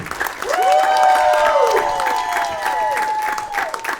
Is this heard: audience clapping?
yes